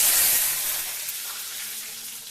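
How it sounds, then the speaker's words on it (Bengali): Mango pieces frying in oil in a wok where jaggery is boiling give off a loud, steady sizzle that eases slightly as it goes on, with no talking. "এই কড়াইতে গুড়টা ফুটতে দিয়েছি এই তেলেতে একটু আমটা দিয়ে দিয়ে"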